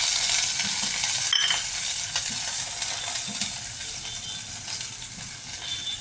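Loud, steady sizzling of a spice tempering frying in a hot pan, close up, with a few stirring scrapes and no talking.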